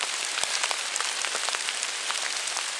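Steady rain falls through a forest, a dense and even hiss broken by scattered close drops tapping on leaves. It carries on without a break and no one speaks.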